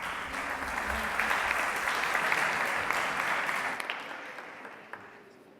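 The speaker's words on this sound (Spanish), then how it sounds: "Les pido un aplauso para ella" Audience applause at a national One Health congress panel session, steady dense clapping filling the room at moderate level, then thinning out and fading near the end.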